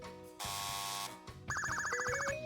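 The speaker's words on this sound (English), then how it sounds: "Stop ringing the doorbell." A doorbell in a pizza video game rings out, a sustained electronic buzz followed by a rapid, repeated chiming trill, clear and fairly quiet with no talk over it.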